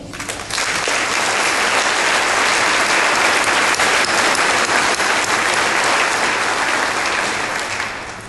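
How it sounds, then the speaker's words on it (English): Sustained, dense applause fills a large room as an audience honors the past chairs of a bankers' association, steady and loud throughout before tapering slightly at the end. "Would you please give them a round of applause?"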